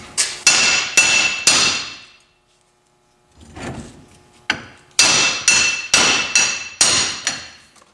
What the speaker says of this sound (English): we're actually gonna hit the metal right here to get this cap off